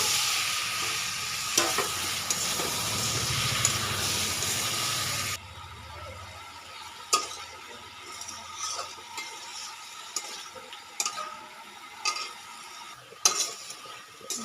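Eggplant drops into hot spiced oil with a loud, dense sizzle that suddenly drops to a quieter steady frying hiss, broken by scattered spoon scrapes and clinks against the pan.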